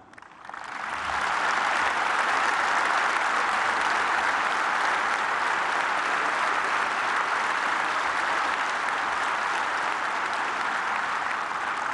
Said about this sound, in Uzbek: Hammaga qarsak cholayapsizlar